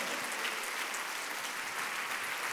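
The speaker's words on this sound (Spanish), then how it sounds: "Se pueden poner de pie para saludarlo, para darle un aplauso." A church congregation stands and applauds first-time visitors, a soft, steady patter of many hands clapping at some distance, even in level and without speech.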